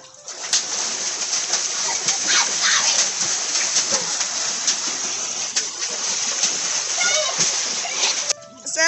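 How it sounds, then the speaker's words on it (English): Children splash water in an inflatable swimming pool, a steady, close, continuous splashing and sloshing that lasts throughout, with faint voices mixed in. "Splash water."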